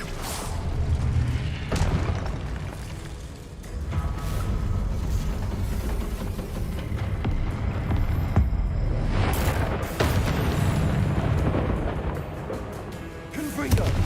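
Confringo blasting-spell explosions in the game Hogwarts Legacy, heavy booming thuds and bursts that recur over sustained rumbling, loud and close.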